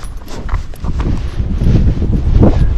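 Gaited horse walking outdoors, its hooves clip-clopping in a steady rhythm near and loud over low rumbling background noise.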